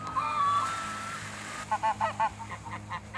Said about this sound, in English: the geese are honking